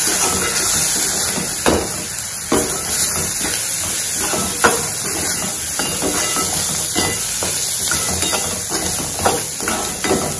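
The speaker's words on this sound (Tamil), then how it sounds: "இதை மிளகாய்த்தூள், கரம் மசாலா எல்லாத்தையும் போட்டு ஒரு வதக்கு வதக்கிக்கோங்க" Chili powder and garam masala being sautéed for a gram-flour cutlet, a steady loud hiss with a few sharp knocks of a spatula against the pan, no voices.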